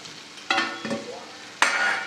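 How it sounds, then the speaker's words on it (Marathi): Ridge gourd chutney (dodkyacha thecha) cooks in a pan, with a few close stirring scrapes and bursts of soft sizzling and frying, brief and fairly quiet. "जास्त वेळ लागत नाही या दोडक्याचा ठेचा शिजायला"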